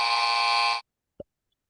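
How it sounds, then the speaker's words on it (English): A harsh, loud electronic game show buzzer blares for just under a second, then cuts to near silence with one short faint tone afterward. "Are we ready with the buzzer?"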